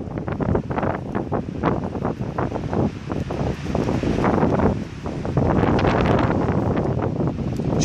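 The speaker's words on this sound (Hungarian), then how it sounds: "Elfúj a szél!" Strong gusts batter an outdoor microphone, producing loud, continuous buffeting and rumbling that rises and falls in bursts throughout.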